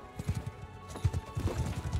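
Cavalry horses thundering across a Mount and Blade 2: Bannerlord battlefield, a fast continuous clatter of hooves close by with a faint whinny, loud and dense throughout with no voices.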